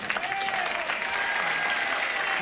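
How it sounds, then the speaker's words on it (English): A 1976 daytime television game-show studio audience applauding, a steady wash of clapping throughout without any spoken words. "Some of you are saying aw, and some of you are applauding."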